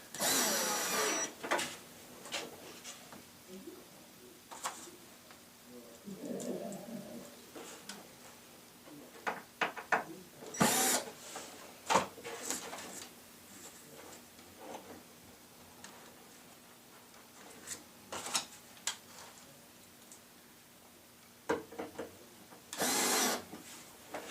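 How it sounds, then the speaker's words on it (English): Screws are driven in to assemble a Lazy Susan cabinet: a quiet room with scattered short tool bursts and light ticking clicks, spaced irregularly and never followed by any talk. "Once you have your 4 screws set, then go back and snug them up nice and tight."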